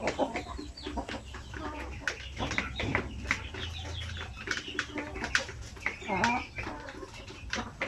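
Native Basilan chickens on a farm cluck and call in short bursts through the clip, with other birds chirping around them and a person talking nearby.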